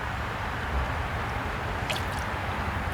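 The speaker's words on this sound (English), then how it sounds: "Then you want to fill the cup to about 1 inch of water." Stream water trickles and splashes into a sample cup being filled for a road salt test, a soft, steady liquid sound close by with a brief higher splash near the end.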